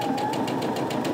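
A sewing machine runs steadily as it stitches quilting fabric, a fast, even mechanical whirring hum with rapid needle pulsing, close and continuous with no talking.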